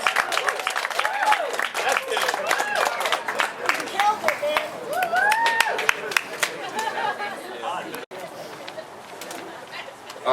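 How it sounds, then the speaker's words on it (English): Wedding guests applauding at a reception, scattered clapping mixed with lively chatter and cheering voices, fairly close, with people talking throughout. "One more round of applause for Evan"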